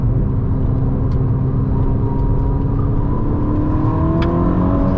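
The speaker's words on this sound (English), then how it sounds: "It just feels like a really fast, really well sorted car." A Ferrari SF90 hybrid sports car driving, its steady engine drone and road rumble loud from inside the cabin, with a faint whir rising slightly and no talking.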